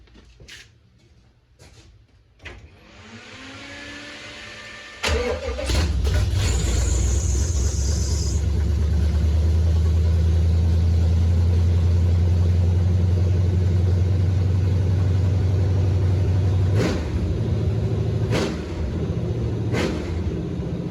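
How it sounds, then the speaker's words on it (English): A Nissan 240SX engine cranks and fires after a fuel tank refit, settling into a loud, steady low idle rumble that holds for about fifteen seconds, with a few sharp clicks and a brief dip near the end. "now we're gonna fire it up, and hopefully it'll run consistently."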